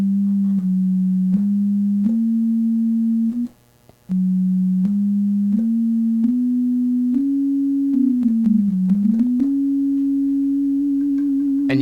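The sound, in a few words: synthesizer quarter tones beating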